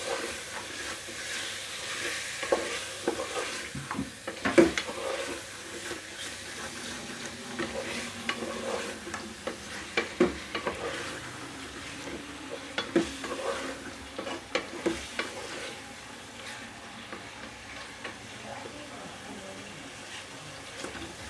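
Chicken do pyaza masala fries in a pan under repeated stirring, a soft continuous sizzle and hiss broken by sharp clinks and scrapes of a spoon against the pot, fairly quiet and close.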